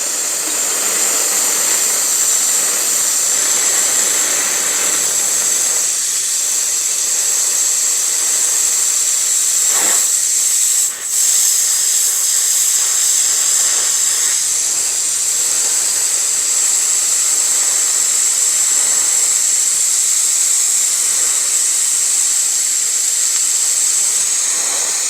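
Torch flame heating an antique fire extinguisher, a steady, loud, close roaring hiss that holds unbroken for the whole stretch, with a brief dip partway, no talk.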